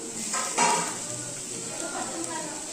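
Green chillies fry and sizzle in a hot pan with onions for a Tamil-style egg stir-fry. A steady, close hiss runs throughout, with a couple of brief scraping stirs near the start.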